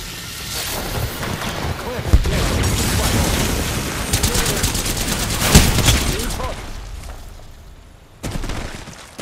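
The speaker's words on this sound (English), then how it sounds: "I am taking fire, friends." Gunfire and booming explosions in the Apex Legends video game, dense rattling bursts layered over a rumbling roar with two louder heavy thumps, up close and loud, with faint game voices underneath.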